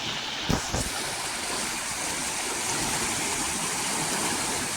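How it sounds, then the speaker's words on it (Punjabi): The fast-flowing Beas river in flood rushes in a loud, continuous roar of churning water close by, with a couple of brief knocks near the start and no talk. "ਦੇਖੋ ਲਾਈਵ ਪਾਣੀ ਦੀ ਕਿੰਨੀ ਧਮਕ ਆ ਕਿੰਨੀ ਆਵਾਜ਼ ਆ ਰਹੀ ਆ"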